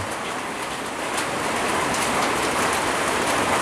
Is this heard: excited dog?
no